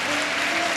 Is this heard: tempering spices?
no